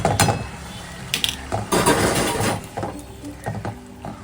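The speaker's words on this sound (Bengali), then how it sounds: "এবার ডালটা দিয়ে বেশ কিছুক্ষণ জল দিয়ে দিয়ে এটা কষাবো" A spatula scrapes and knocks against a pan while lentils (dal) are stirred and sautéed with curry, giving irregular close-up clatter and scraping strokes with no speech.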